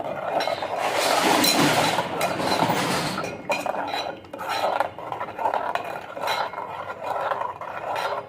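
A spoon stirs poured milk in a pot for payesh, a Bengali rice pudding, with repeated metallic scraping and clinking against the pot, close and fairly loud at first, then lighter intermittent stirs.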